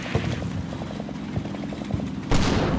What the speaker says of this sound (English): here's our return fire